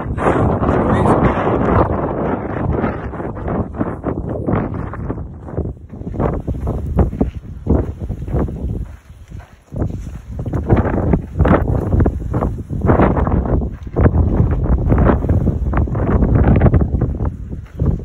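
Strong gusting wind on a mountain trail, roaring and buffeting the microphone continuously at high volume, with brief dips between gusts.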